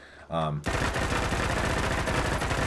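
Sustained automatic fire from a V52 assault rifle fitted with a muzzle brake in Fallout 4, a loud, rapid, steady stream of shots running for over two seconds after a brief mechanical lead-in.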